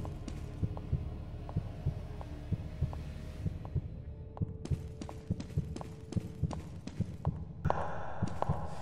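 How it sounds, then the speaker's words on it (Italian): Rhythmic heartbeat thumps in a Roblox game, steady double pulses repeating throughout over a low hum, with brief clicks and a brighter hiss rising near the end. "perché sento questi battiti?"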